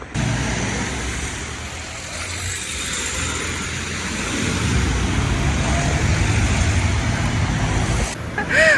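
Heavy traffic on a busy main road in Pristina, Kosovo, a steady roar of cars, trucks and buses passing close by, swelling louder midway and holding loud to the end.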